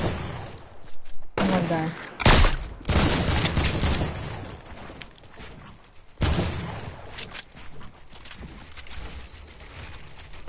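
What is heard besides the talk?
gunfire in a video game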